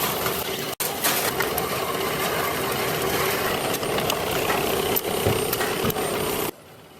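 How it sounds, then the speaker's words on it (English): A fully automatic machine rolls and welds steel sheets into iron pipes, a loud, constant mechanical drone with a faint tonal whine and occasional clicks, stopping abruptly near the end. "This fully automatic machine carries out the entire process of converting sheets into iron pipes."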